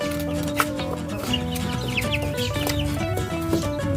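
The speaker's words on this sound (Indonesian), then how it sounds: "tapi intinya ini ayam KUB dan ayam gaok." Several KUB and gaok hens, a laying breed and a local breed kept by a hobbyist, cluck close by in overlapping, irregular bursts, joined by a few sharper squawks against a mild farmyard background.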